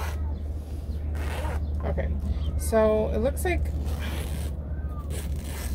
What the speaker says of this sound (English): I hope the zipper's not broken.